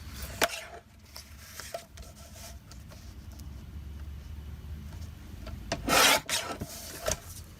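Scrap paper for a junk journal is trimmed to size with a series of close scraping, rasping strokes and a few sharp taps, ending with a louder swift slicing burst near the end.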